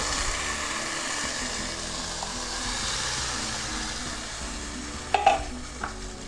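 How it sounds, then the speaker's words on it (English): Two cans of diced tomatoes go into a pan of softened, sizzling onions for tomato soup, producing a soft, steady sizzle with a brief clatter near the end. "we're gonna add 2 cans of diced tomato"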